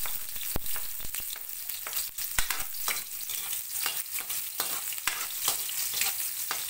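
Onions frying and sizzling in a pan for sardines with udon noodles, a steady hiss broken by repeated sharp clicks and scrapes of stirring, close and fairly loud, with no voices.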